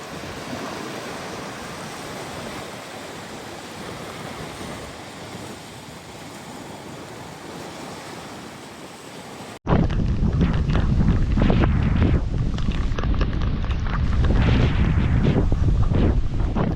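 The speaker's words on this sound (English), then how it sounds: "Now we're about to face the first wave of the storm." Storm wind and crashing waves roar on a remote island in a dense, continuous rush of noise. Partway through, the sound jumps abruptly to a louder, gustier blast that buffets the microphone.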